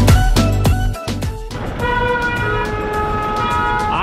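Busy taxi line bound for Gaurikund with horns tooting and vehicle engines idling and revving nearby, several short honks at the start followed by a steady rumble of traffic.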